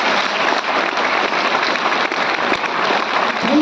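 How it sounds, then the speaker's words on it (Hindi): An audience claps loudly and continuously at a health and direct-selling seminar, a dense sustained applause filling the room throughout. "लोगों के लिए एक बार जोरदार ताली।"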